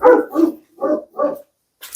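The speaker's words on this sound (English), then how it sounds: "Oops. Dogs interruption." A dog barks four times in quick succession, loud and close by, with a short pause before a faint sound at the end; no talking underneath.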